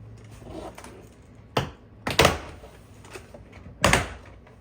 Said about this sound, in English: just popping the pins out.